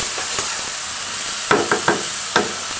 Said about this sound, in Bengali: আগে আলুগুলো কষিয়ে নিচ্ছি।